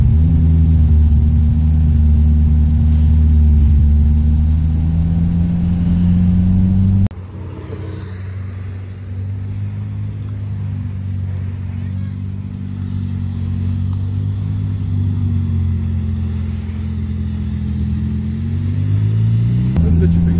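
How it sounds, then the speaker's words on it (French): Ferrari F8 Tributo on a racing circuit at Pont-l'Évêque: a deep engine idle rumbles steadily, then the car pulls away in first gear with a sustained low drone, while people talk nearby. "tu peux appuyer légèrement sur l'accélérateur et ça va démarrer."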